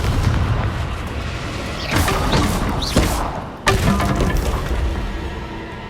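Confringo blasting spell in Hogwarts Legacy: a series of booming blasts and thuds with crackling, shattering debris over a constant low rumble of combat noise, with sharp impacts near the two- and four-second marks.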